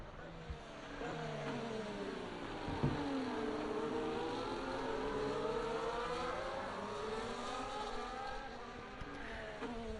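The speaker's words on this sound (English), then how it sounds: "So we can now see the rest of the cars approaching the safety car train" Formula 1 race cars in a racing video game run behind a safety car during the Spain round, engines droning and rising and falling in pitch at moderate volume as they bunch up, with commentary voices over the top.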